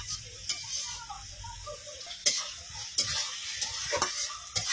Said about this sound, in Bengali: দিয়ে খুব সুন্দর করে নেড়ে চেড়ে নামিয়ে নেব।